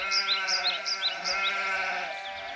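A flock of sheep bleating, several overlapping wavering cries layered over one another with a steady drone beneath, moderately loud and continuous.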